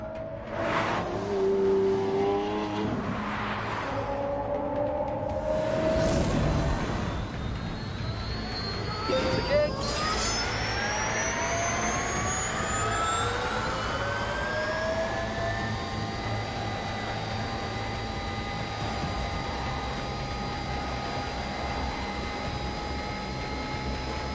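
An electric supercar in The Grand Tour video game accelerates, a rising whine climbing in pitch and holding as a steady high electric drone over road noise, loud and sustained.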